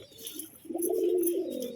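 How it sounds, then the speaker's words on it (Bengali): A pigeon in a cage coos once close by, a soft low rolling call that swells and fades over about a second, alone against faint background. "এই যে ডাক করছে দেখুন আমাদেরকে দেখে পুরো গরম পায়রা"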